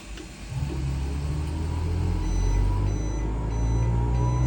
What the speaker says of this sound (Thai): อันนี้เป็นเสียงปั๊แอร์เนาะ